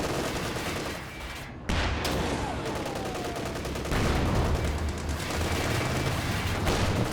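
A Vickers machine gun in Company of Heroes 2 rattles off dense, rapid bursts amid battlefield explosions, loud and continuous with brief gaps, while a commentator speaks underneath.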